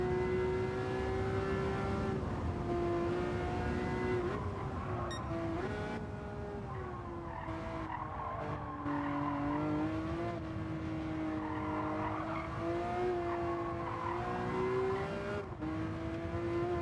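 Race cars in Gran Turismo 7 hold a sustained, loud engine drone, the pitch rising and falling with shifts and throttle changes, with other cars audible around it and no talk.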